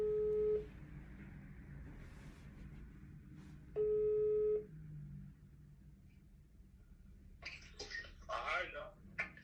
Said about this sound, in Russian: Звоним таксисту.